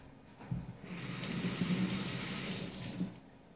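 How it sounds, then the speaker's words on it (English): A kitchen tap runs onto a carrot being rinsed, a soft, steady splashing stream of water that starts after a moment, holds for a few seconds, then tapers off. "Now time for some carrots. Okay. I'm gonna wash this off."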